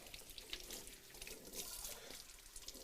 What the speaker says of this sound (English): Let me give these celery ribs a quick rinse.